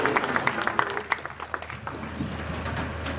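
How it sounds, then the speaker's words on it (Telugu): Congregation applauding during a church ordination ceremony, an uneven burst of clapping that is strongest at first and then thins out into fewer scattered claps. "అందరూ చప్పట్లు కొడుతూ సర్వేశ్వరునికి వందనములు."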